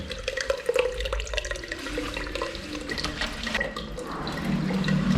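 Water running in the cellar of an old workhouse, a continuous rushing wash with a low rumble, steady throughout and growing slightly louder toward the end, alone without talk.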